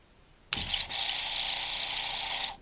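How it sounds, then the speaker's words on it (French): A small 12V diaphragm pump motor switches on with a sharp click and then runs with a steady, even high-pitched whir that holds at constant loudness until it stops, heard close with no talking. "on verra quand même tourner le moteur"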